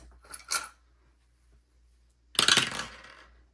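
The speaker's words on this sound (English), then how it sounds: "So what I'm going to do is hopefully roll a dice." A die rolled for a board game clatters across a hard surface in two bursts of rattling, a short tumble near the start and a louder, longer skittering roll toward the end, close and with no talking.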